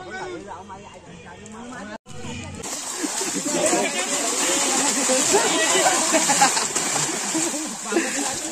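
Water splashes and sloshes as people bathe in a river during hot weather, a steady busy spatter that builds after a brief pause, with voices talking over it.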